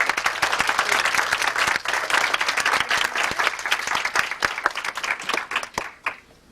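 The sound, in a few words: applause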